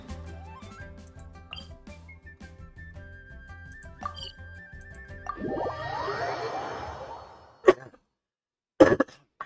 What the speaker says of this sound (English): Sorry for coughing in all your ears